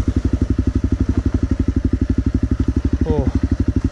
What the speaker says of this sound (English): This CRF. Let's really see what you can do.